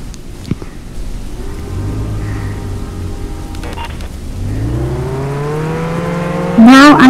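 A car in the Roblox Jailbreak video game accelerates, its engine tone climbing steadily and growing louder over a low hum, then ends in a sharp high burst.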